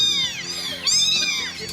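Kittens meow repeatedly in high, wavering cries, close and fairly loud, from a litter of kittens that stowed away on a trip from Oklahoma to Alberta.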